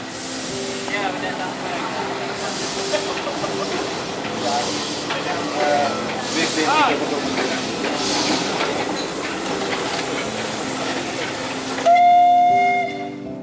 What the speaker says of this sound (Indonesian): dengan menggunakan lokomotif uap E1060 atau Maitam ini